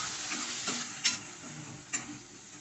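Onion pieces fry in a pan with green chilies and curry leaves, giving a soft, steady sizzle. A few faint ticks of stirring break through it, and no one speaks.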